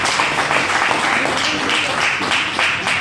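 A live comedy audience applauds a stand-up host at an outdoor show in the rain, a dense, steady wash of clapping from many hands filling the whole moment without pause.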